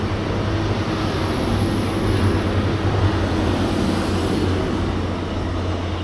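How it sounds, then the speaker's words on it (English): A steady low rumble of a nine-coach IET passenger train bound for London Paddington rolling past continuously near Oxford, with constant broadband noise and no voices. "it's a 9-coach train bound for London Paddington"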